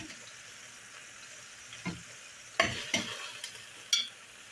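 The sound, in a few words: carrots added to sizzling tagine dish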